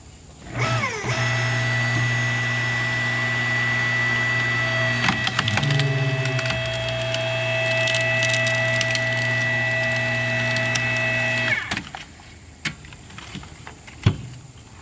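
5-ton electric log splitter working a log along its grain, a steady motor hum with a constant pitch running for around ten seconds, punctuated by a few creaks and cracks of the wood before the motor cuts off.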